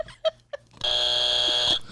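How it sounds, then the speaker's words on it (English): A game-show style buzzer is struck once, sounding a loud, sustained electronic tone that holds for about a second after a couple of short clicks and taps. "I get the chance to hit the buzzer"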